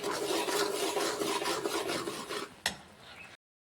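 A spoon stirs and scrapes a dry peanut powder and milk powder laddu mixture in a pan with a steady, rhythmic rasping rub. It ends with a sharp clack before stopping.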